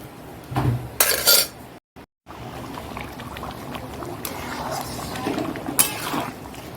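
A metal lid set on a pot of cooking mutton curry, with a loud clattering clank and scrape of cookware up close, followed by further clinks and quiet kitchen noise.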